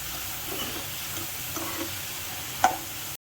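Close sizzling of spice masala dry-roasting in a pan with a spoon scraping and stirring through it, ending in a brief sharp clink.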